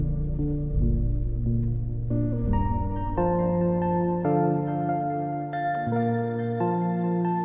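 A Loneliness synth preset on a desktop softsynth plays held chords that shift step by step into sustained notes, a warm, moderately loud pad without any voices.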